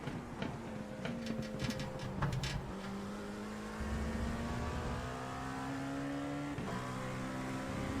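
A race car engine in the iRacing sim, revving hard and climbing in pitch through the gears with brief dips at shifts, loud and continuous with no talk.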